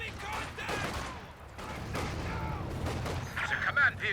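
ZiS-3 field guns fire an artillery barrage in Company of Heroes 2, a dense run of booms and bursts through a cluttered battle soundscape, with commentators talking throughout.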